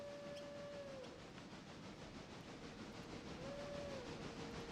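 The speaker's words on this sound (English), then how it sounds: "I can hear the passenger train coming too." A passenger train approaches in the railroad video game Railroader, a steady rumbling hiss with two drawn-out whistle blasts, the second starting near the end, heard alone without talk.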